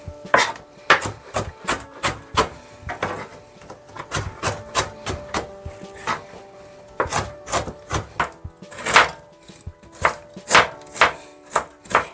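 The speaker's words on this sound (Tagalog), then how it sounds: "Gayatin na lang natin ng maninipis mga ka-tuber" Knife slicing thin pieces of ginger root on a cutting board, a steady run of crisp chopping taps close by, about two per second with brief pauses, no voices.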